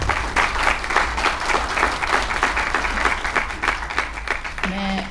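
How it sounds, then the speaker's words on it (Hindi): A large audience at an Independence Day university event breaks into loud, sustained applause, a dense clatter of many hands clapping steadily for the whole stretch and tapering slightly at the end. "तालियां।"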